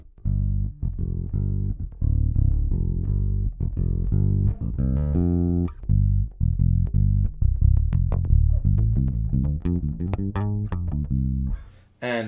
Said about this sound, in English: So the front pickup sounds like this.